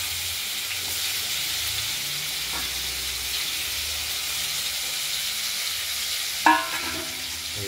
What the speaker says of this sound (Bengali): এই আলুগুলোকে আমরা একটু এই ফোড়নের সঙ্গে ভাজা ভাজা করে নেব